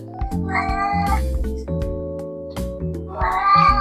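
A pet cat meows up close in a bedroom, two drawn-out cries separated by a stretch of clattering and tonal background sound.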